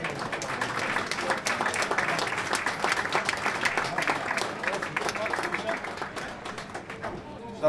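Sustained audience applause fills a music awards ceremony hall, dense continuous clapping at steady loudness for the whole stretch, with a few louder claps near the end.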